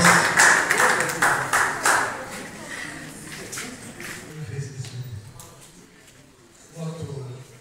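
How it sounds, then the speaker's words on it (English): An audience at an induction ceremony bursts into loud clapping that fades after a few seconds, leaving scattered claps, shuffling and a speaking voice. "please let's give everyone a round of applause"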